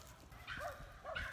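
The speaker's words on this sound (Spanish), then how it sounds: "Están peleando unos perros." Dogs fighting outdoors, with two bursts of yelping, snarling barks a short distance away over low background rumble.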